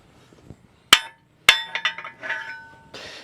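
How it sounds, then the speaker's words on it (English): A blue hammer taps something at a hunting spot: two sharp, loud metallic strikes a half second apart, then a quicker run of lighter clinks and a fading ring. "Blue hammer. Now we're just going to, I'll tap just on these, just tap them where they come out"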